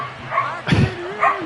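An excited dog at home gives a couple of yips and a short bark, mixed with whimpering, close and fairly loud over a television broadcast of an NFL playoff game.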